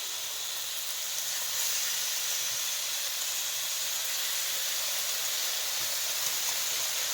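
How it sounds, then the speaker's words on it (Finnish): Steady close sizzle of breakfast bread frying in a hot pan, a constant bright hiss that runs unbroken from start to finish with no voices. "nyt ei ole mitään muuta musiikkia kuin tämmönen tirinä tässä"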